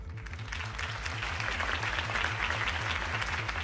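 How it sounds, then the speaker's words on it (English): A video game crowd claps continuously at a campaign speech in Batman: The Telltale Series, a dense wash of applause, with a low rhythmic pulse thumping underneath. "could have heard that applause"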